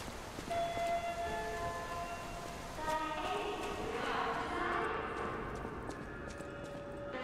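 Rain falls steadily in the Lorenzini Arcade area of the video game Lies of P, a soft even hiss with faint chiming tones and a brief swell of louder noise partway through.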